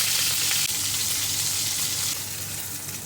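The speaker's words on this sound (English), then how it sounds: "Heat oil in a pan, then fry the fish until golden on both sides." Fish frying in hot oil in a pan, a steady loud sizzle with crackling spatter throughout, slightly easing toward the end, with no talking.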